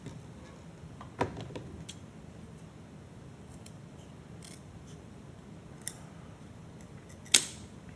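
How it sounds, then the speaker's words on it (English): A few sharp snips while cutting a 4-inch piece for the center axis of a small robot frame, isolated and fairly faint against a quiet room hiss, with long pauses between cuts. "So I'll go ahead and cut the piece now."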